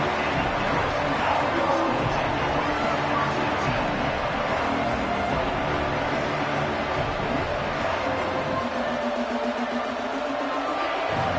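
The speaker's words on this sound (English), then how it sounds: "This crowd, full throat, spreading the eardrums and letting him know it's going to be a long day." Loud, full-throated football stadium crowd roaring steadily through a college football game, a dense wall of cheering and babble with no pauses.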